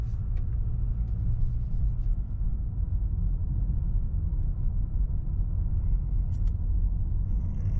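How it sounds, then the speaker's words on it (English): A 2013-2017 Honda Accord drives along a road at speed, a steady low tire and engine rumble heard from inside the car, continuous and even with no talking. "I'm gonna take it out on the road and get it up to speed."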